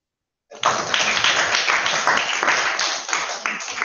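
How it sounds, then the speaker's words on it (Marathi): Children applauding together after an answer, a sudden burst of clapping that starts sharply and holds steady for a few seconds before trailing off slightly. "सगळ्यांनी टाळ्या वाजवा."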